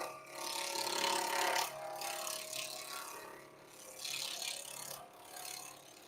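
A lathe tool nicks the corners off a square pen blank of Banksia pod hybrid and stabilized wood, giving a faint, uneven scraping and chattering that comes in several bursts with brief lulls between them.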